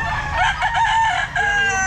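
A rooster crows once, loud and close, one long drawn-out call at a Grotto pet market, with market bustle beneath it.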